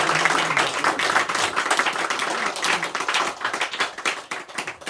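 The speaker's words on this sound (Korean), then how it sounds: "우리 장로님 위해서도 박수 한번 주세요" Church congregation at a Sunday morning service applauds for their elder, a dense, close burst of many hands clapping that thins toward the end.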